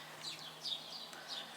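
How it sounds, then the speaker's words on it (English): Sparrows chirp faintly in a garden around a nearly emptied feeder, several short high tweets spread over a steady low hum, no voices. "I'm looking at sparrows."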